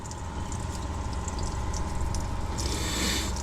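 Floodwater drains out of the oil pan of a flooded ex-California Highway Patrol Camaro, a continuous close gushing, splattering stream that holds steady throughout.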